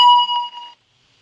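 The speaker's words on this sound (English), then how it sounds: "That was just a notification." A single bright electronic notification ding rings out, with a couple of quick chime pulses that decay and cut off into silence.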